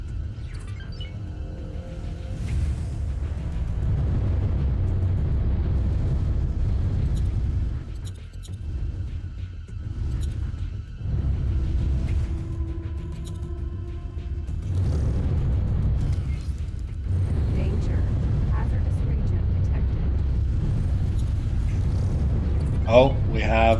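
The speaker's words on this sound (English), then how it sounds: "Let's also fire a torpedo in this direction." Torpedo launch and detonation in the space game X4: deep booming rumbles roll through in repeated waves, loud and sustained under a busy layer of ship and combat noise.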